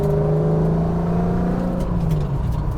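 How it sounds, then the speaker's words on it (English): A drift truck engine revs steadily through its rev range below full throttle, a loud, close, continuous roar whose pitch climbs and falls with no talking. "I love just like kind of going through the RPM range"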